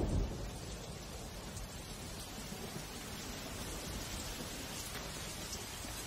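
Steady, dense monsoon rain pours down with a low rumbling undertone of distant thunder, continuous throughout and no voices.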